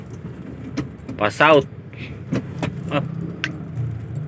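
Heavy road traffic in Dasmariñas heard from inside a vehicle: a low engine hum with jangling keys and scattered clicks, under someone talking briefly.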